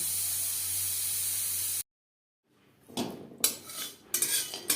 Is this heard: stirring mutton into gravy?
yes